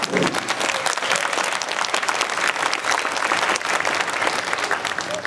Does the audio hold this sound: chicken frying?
no